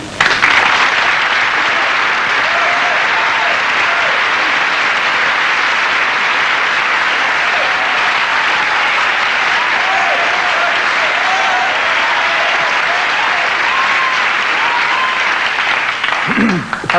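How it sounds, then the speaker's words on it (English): A large studio audience at a 1984 Wogan television show with Rik Mayall applauds in a dense, loud, sustained wash of clapping that lasts the whole time, with a brief voice near the end. "not too many bits of applause for people who just come on and perform"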